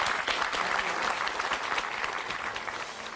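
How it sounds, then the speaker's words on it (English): A studio audience breaks into dense, sustained applause, many hands clapping loudly and continuously throughout. "please, a nice, warm hand of applause for Lindy and also Missy"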